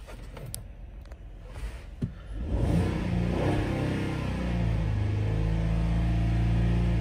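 A 2016 Ford Explorer engine, a former police vehicle, idles after a couple of clicks and then revs up, rising and holding with a strong, close engine drone through the rest.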